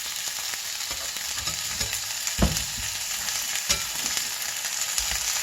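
Homemade ground chicken breakfast sausage patties frying in a cast iron skillet, a steady close sizzle with a few brief knocks and stirs, no voices.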